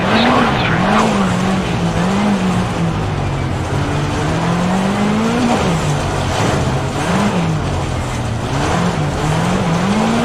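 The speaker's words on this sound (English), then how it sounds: "initiate the power slide. Use the throttle and steering to continue the slide through the corner" A rally car power-slides through a corner in the Richard Burns Rally driving game, its engine droning loudly and steadily with pitch rising and dipping under the throttle, over continuous tyre scrabble and skid noise.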